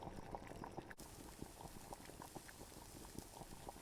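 Water boils steadily and faintly in the survival video game Subsistence, with continuous bubbling, small pops and no voices.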